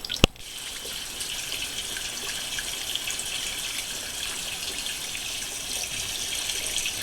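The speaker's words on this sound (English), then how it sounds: "I'll get the water running to warm things up a little bit" Tap water running steadily into a quarantine fish tank, a continuous bright splashing hiss that holds level throughout after a brief sharp knock at the very start.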